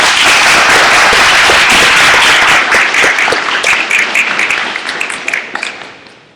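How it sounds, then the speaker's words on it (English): Audience at a mayor's town hall meeting bursts into loud, dense applause, clapping steady and close for several seconds before thinning and fading out near the end. "give a round of applause for Rosemary Ryan for everything she's done"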